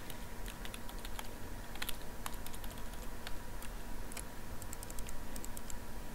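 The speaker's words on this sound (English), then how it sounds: "Just keys being clicked. And nothing else." Computer keyboard typing in the visual novel game Everlasting Summer, irregular soft key clicks tapping one after another over a low steady hum, with no voices.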